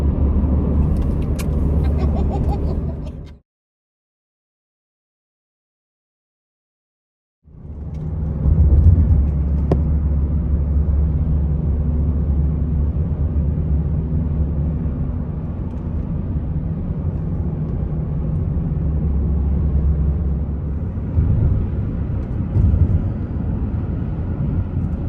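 A truck on a road through redwoods rumbles loudly and steadily, a heavy low engine drone that cuts out briefly and then returns and holds.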